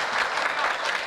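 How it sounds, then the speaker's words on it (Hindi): A brief burst of dense, even applause from the audience at a Hindi comedy poetry gathering, with clapping filling the short moment without a break. "ताली बजानी पड़ेगी"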